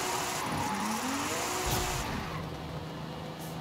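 A Nissan Z drifting in Forza Horizon 5 revs hard, its engine note swooping up and down over a steady roar with faint tire noise, loud and close throughout.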